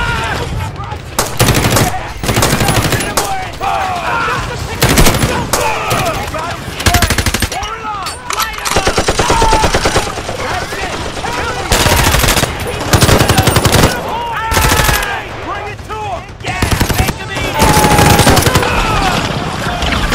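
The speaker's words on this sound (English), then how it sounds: "All that shooting would have alerted the enemy." Repeated bursts of toy-soldier machine gun fire in a plastic army men stop-motion battle, loud rapid volleys with short gaps, voices shouting over the firefight.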